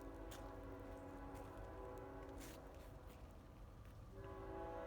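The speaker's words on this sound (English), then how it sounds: "Do you hear the train?" A train passes nearby, a faint, steady low rumble with tonal horn-like drones and occasional sharper clatters, heard at a distance without speech.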